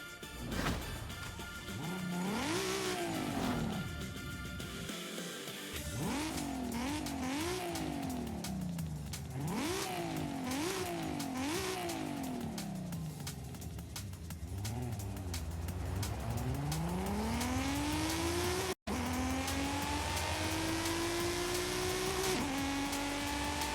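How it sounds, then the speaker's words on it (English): The RB26 engine of a 2002 Nissan Skyline GT-R V-Spec II in Forza Horizon 5 revs up in repeated rising sweeps with gear changes between them, then eases off and climbs into a long steady pull, loud and close throughout. "Right away, the firm exhaust note gives the RB26 a strong presence."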